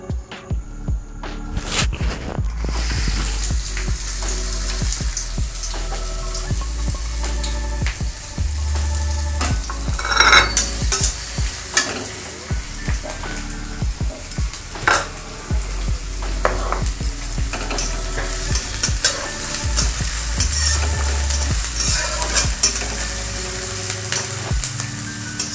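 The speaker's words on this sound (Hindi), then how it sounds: "तेल गरम है मुझे प्याज को दे दूची" Onions fry in hot oil for an aloo matar chaat, giving a strong continuous sizzle up close with occasional spoon scrapes and pan clinks as they are stirred. No voices are heard.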